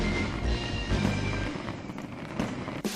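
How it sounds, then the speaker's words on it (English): Fireworks sound effect in a M.U.G.E.N fighting video game, with dense crackling bursts and pops over a loud rumbling bed, close and continuous for a few seconds. "we get to hear that fabulous fireworks noises"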